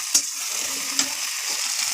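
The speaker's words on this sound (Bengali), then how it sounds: "দিয়ে এবারে নাড়াচাড়া করছি।" Spices and tomato sizzling in oil for biryani while being stirred, a steady close hiss with a couple of sharp spoon scrapes against the pan.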